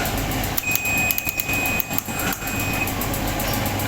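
An electric motor driving a converted laundry dryer drum through a newly fitted fan belt starts up and runs with a steady mechanical hum and rumble, holding loud and even with slight fluctuations throughout.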